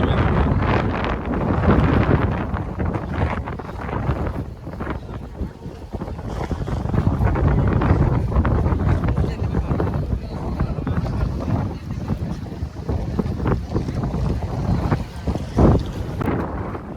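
Steady boat engine rumble and strong wind buffeting on a ferry ride to Nagadeepa (Nainativu) island, continuous and loud throughout, with voices talking faintly under the noise.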